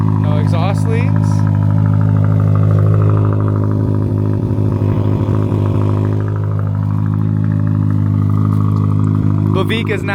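A 2022 Subaru WRX with a valved exhaust idles loudly with a deep, throbbing exhaust note, steady throughout, with brief voices at the start and end.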